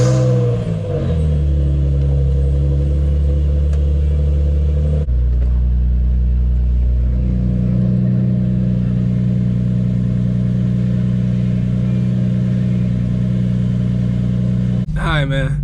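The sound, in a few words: car engine running after Stage 5 clutch and lightweight flywheel install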